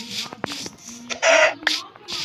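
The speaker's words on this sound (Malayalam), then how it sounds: "ഇവിടെ ഒരു കോഴിനെ കിട്ടിയിട്ടുണ്ട്. കുറേ കോഴികളുണ്ട്." Chickens cluck and squawk in a Minecraft game world, several short, close calls in quick succession with brief gaps between them.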